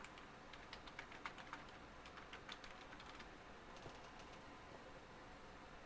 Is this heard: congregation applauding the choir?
no